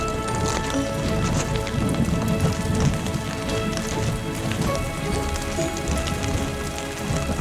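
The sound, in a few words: hail falling on tarp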